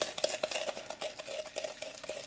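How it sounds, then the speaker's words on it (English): A spoon stirs a mashed sugar-and-coffee paste for Cuban coffee foam in a small cup, giving soft rhythmic scraping strokes, close and quiet. "Now we can stir it around a little."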